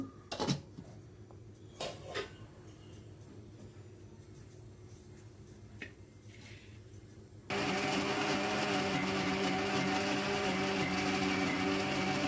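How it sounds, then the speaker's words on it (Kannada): A steady, loud motor whir kicks in partway through after quieter clatter and handling noises, running continuously to the end as a mixer grinder grinds soaked rice with a little water. "ಸ್ವಲ್ಪ ನೀರು ಹಾಕಿ"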